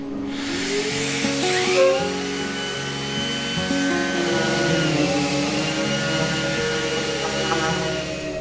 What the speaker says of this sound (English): We'll now give all of the shelves a really good sanding.